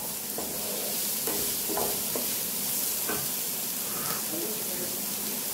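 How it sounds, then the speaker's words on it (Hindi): Chicken fried rice stir-fried in a wok over full flame: steady loud sizzling throughout with repeated scraping strokes of the spatula, close and busy, no voices. "बस इसको थोड़ा सा स्टर फ्राई करना है और उसके बाद इसमें हम चिकन और एग मिलाएंगे।"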